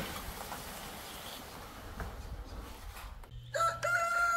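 A rooster crows near the end, a loud, drawn-out call ringing over a soft outdoor background hum.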